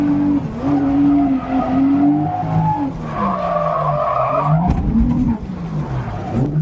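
A drift car at a drift competition in Japan skids sideways with tires squealing in long wavering tones over a strained engine note, loud and close, with a brief crunching burst near the end.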